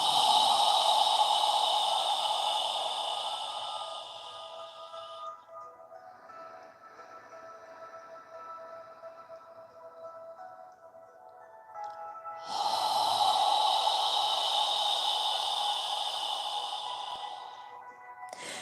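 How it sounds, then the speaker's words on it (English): Two long, close breaths are exhaled through an open mouth during yoga, each a soft, airy huff that fades out, separated by a quiet pause. "Imagine you're fogging a mirror with your breath as you exhale."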